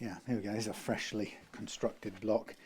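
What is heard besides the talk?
None of the usual background noises is heard.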